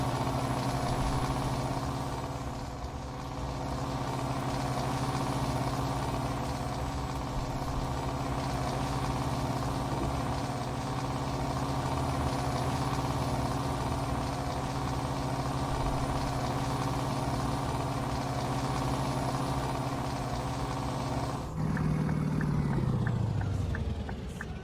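A Scania T cab truck engine in Euro Truck Simulator 2 drones steadily and loudly throughout at an even idle-like hum, shifting pitch and rising near the end.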